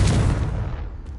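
A Confringo fire spell detonates in Hogwarts Legacy, a loud, close blast with a booming low-end burst that decays over about a second, alone with no talk.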